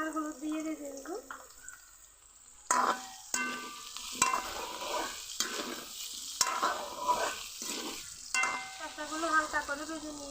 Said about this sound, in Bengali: শসাগুলো একটু হালকা করে ভেজে নিব। সামান্য লবণ আর হলুদ দিয়ে ভেজে নিব।